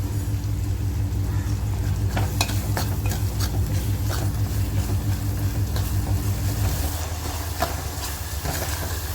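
Onions frying in a pan with salt for a mutton dish, a steady loud sizzle with stirring scrapes and a low rumbling hum that drops away near the end.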